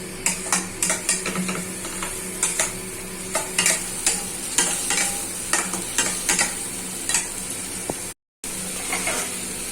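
Boiled banana flower for mochar ghonto being stirred in a pan, with a steady string of sharp scraping and clinking strokes over a low sizzle and a brief cut near the end.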